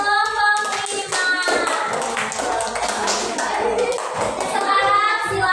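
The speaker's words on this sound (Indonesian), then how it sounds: "Beri tepuk tangan dulu untuk kelompok 5." Classroom students clap for a presenting group during a teaching practice lesson, a brisk round of hand claps mixed with children's voices and chatter.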